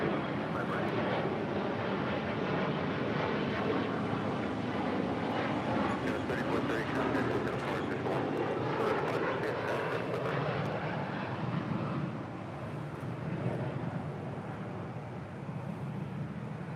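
Airliner jet engines roaring steadily on LAX runway 25 right during takeoff, a broad continuous rumble heard from a distance, with tower radio talk faintly underneath.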